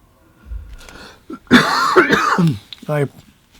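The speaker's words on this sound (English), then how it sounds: "I'm sorry for coughing here." A short throat-clearing cough from a man with a cold breaks out amid his nearby talking, a rough burst followed by more speech.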